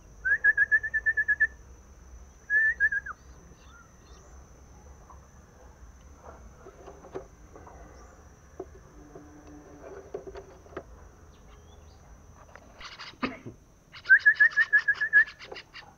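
Young yellow hill myna chicks give shrill, whistle-like begging calls while being fed, in a few short bursts near the start and again at the end, with quiet handling noise between.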